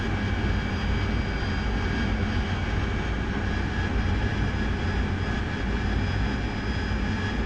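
A jet aircraft engine hums and whines steadily at moderate level during a night strike mission in the DCS World flight simulator, with a constant tonal drone and no talk.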